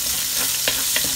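Onion and garlic sautéing in a pot, a dense steady sizzle with a couple of quick stirring scrapes, close and fairly loud, with no voices.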